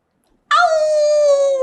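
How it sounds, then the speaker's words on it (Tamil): A cross-breed dog lets out a single loud, sustained howling whine that starts abruptly out of silence and holds steady close by. "அது என்ன வித்தியாசமான நாயா இருக்கு?"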